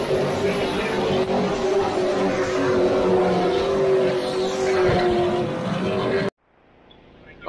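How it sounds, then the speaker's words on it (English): Sportsman race cars roar around the Auburndale Speedway oval in a loud, continuous pack of engine noise, which cuts off abruptly near the end. "100 lap Wheelman Sportsman race about to start"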